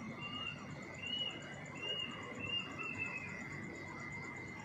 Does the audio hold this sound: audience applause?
no